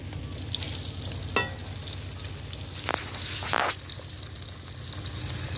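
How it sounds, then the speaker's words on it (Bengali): A continuous crackling hiss of burning firewood used for frying fish outdoors, with a low rumble, broken by a few sharper pops and a brief whooshing burst. "কাঠ রাখা আছে এই কাঠগুলো জ্বালছি"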